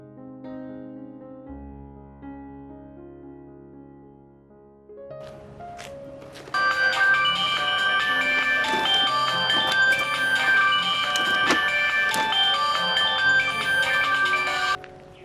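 A phone rings out during an outgoing call, a steady electronic ringtone tune that grows louder and fuller about halfway through and plays on alone without talk.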